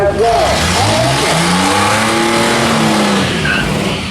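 A drag race car called Frankenstein launches hard off the line at a bracket race during No Name Nationals, its engine roaring and climbing through the revs while tires squeal loudly and up close, with voices in the background.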